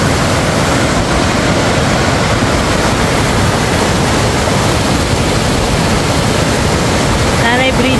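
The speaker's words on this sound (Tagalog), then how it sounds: "There you go, the Aliwagwag Falls and the bridge." Aliwagwag Falls rushing near a footbridge in Davao Oriental, a loud, constant roar of falling water that fills the whole clip without letting up.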